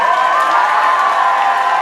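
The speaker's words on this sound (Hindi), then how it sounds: "तो एक बार लड़के वालों की तरफ से जरा तालियां हो जाए सिर्फ।" Crowd of guests at a wedding sangeet cheering and whooping, a continuous loud wash of voices with clapping mixed in, steady throughout with no clear pauses.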